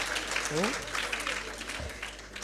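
An audience at a career talk claps steadily, with voices talking and calling out over the applause.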